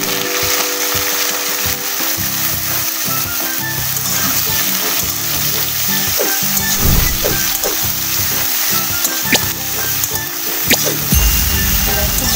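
Ridge gourd and potatoes fry in hot oil with slit chillies, giving a steady loud sizzle broken by scraping stirs and clacks of the spoon against the pan.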